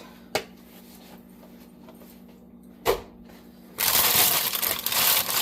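Parchment paper crinkles loudly and close up as a baked sourdough loaf is lifted out, a dense crackling rustle near the end, preceded by two sharp isolated snaps or taps in a quiet room.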